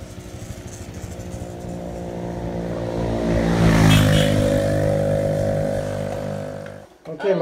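Motorbike pulling away on a road in Vietnam, its engine swelling to a peak, then fading into the distance before a sharp drop and a brief bump at the end.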